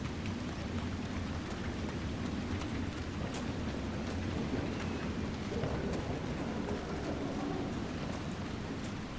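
Rain falling in the game Dragon Age Inquisition, a constant dense patter with a heavy low rumble beneath, like a stormy downpour, holding a uniform level from start to finish.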